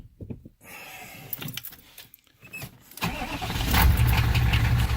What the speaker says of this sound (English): It starts up easily enough